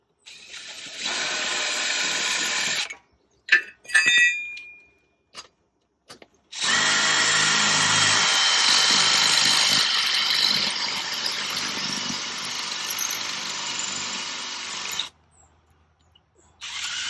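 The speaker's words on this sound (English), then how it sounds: "when you're using these kind of concrete bits to drill down into your concrete" A power drill with a concrete bit boring into concrete, loud sustained grinding whir in long runs, broken by short bursts and pauses, close up.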